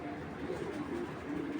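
A male Giribaz club pigeon gives a brief low coo, close and fairly quiet against steady background noise.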